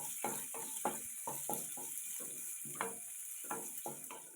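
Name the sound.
garlic cloves frying in a pan for coconut chutney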